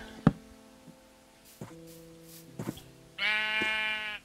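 Sheep in the video game Minecraft bleat several times in short wavering calls, with clicking knocks between them and a louder sustained bleat at the end, no talking.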